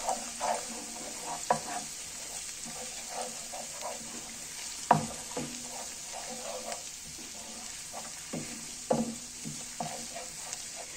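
Tomato paste fries with onion and garlic in a pan in a soft, constant sizzle, broken by a spoon's irregular stirring knocks and scrapes.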